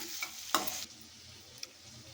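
Salted vegetable pieces being mixed in a cooking pan, a couple of brief scraping stirs over a faint low sizzle, quiet and close, no voices.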